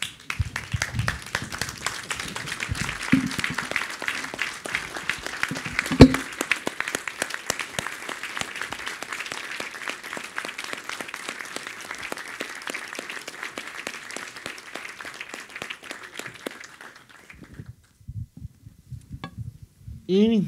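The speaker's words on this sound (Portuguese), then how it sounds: "levantem-se e aplaudam esse líder" A standing audience at an agribusiness talk applauds a leader, with steady, fairly close clapping for about seventeen seconds before it fades out, followed by a few scattered sounds.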